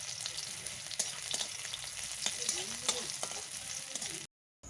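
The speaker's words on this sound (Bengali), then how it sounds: "নাড়াচাড়া করে পেঁয়াজ কুচি ভালোভাবে ভেজে নেব।" Chopped onions frying in oil in a pan while a utensil stirs them, with a steady broadband sizzle and scattered scraping clicks throughout. The sound cuts off abruptly near the end.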